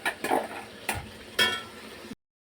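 Ginger, garlic, mint and coriander paste cooking in hot oil for mushroom biryani, with a soft steady sizzle and a few brief stirring scrapes of a utensil in the pan, close and moderately quiet.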